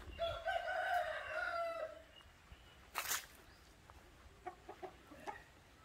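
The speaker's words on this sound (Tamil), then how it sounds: "நாட்டு ரக கோழிங்க எல்லாமே." Native breed chickens on a village farm: a rooster crows loudly and close for about two seconds, followed by a few short, scattered clucks and calls.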